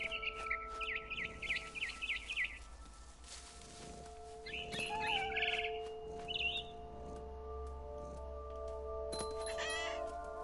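A frightened bird chirps in quick repeated bursts, then gives a few sparse, faint calls over a steady low hum, with no talking.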